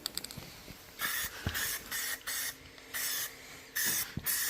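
A spray paint can hisses in several short bursts onto a milling machine, with quiet rattling and taps from handling between the bursts, all close and with no one talking.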